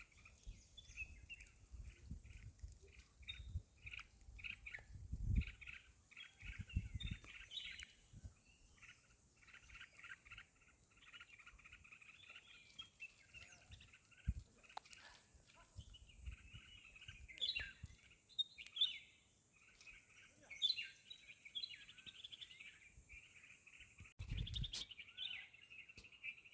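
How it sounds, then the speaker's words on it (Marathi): Birds call and chirp repeatedly in open country near the Amboli ghat in Konkan, a steady run of faint, high twittering notes with occasional louder bursts and soft low rustling underneath, no talking. "पक्षी आरडता कसलो तरी."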